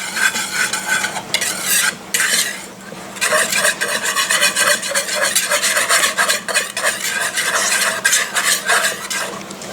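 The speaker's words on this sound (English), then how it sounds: "I will carefully whisk it together." Dry flour and baking soda being whisked together in a bowl, a steady, close scraping and rustling stir that runs continuously with brief pauses, with no voices.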